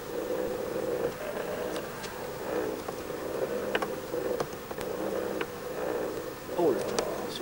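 Honeybees hum steadily at an opened beehive during an apiary visit, a close, continuous buzzing drone with occasional sharper clicks and a passing louder bee near the end.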